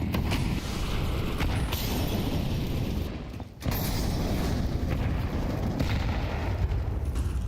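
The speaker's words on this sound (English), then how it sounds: "Missed incendiary there from Complexity" Incendiary grenade fire in a Counter-Strike esports match, a loud continuous roaring, crackling burn with dense noisy texture, briefly dipping before resuming at full strength, no voices.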